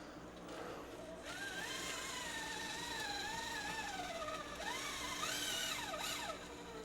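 An Injora BUG RC truck crawls through a mud pit and up a steep section, its small electric motor whining and rising and falling in pitch as it strains, fairly quiet but continuous.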